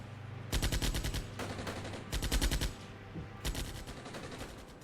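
Rifle and machine-gun fire from the Armoured Brigade war game comes in several rapid bursts of sharp cracks. Short pauses and a low rumble separate the bursts, and the sound is moderately loud with no talking.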